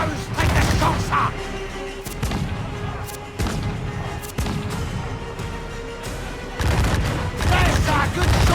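Volleys of ship cannon fire in a naval battle in Assassin's Creed IV Black Flag: repeated heavy booms and crashes in clusters, loud and near, over battle noise with voices shouting.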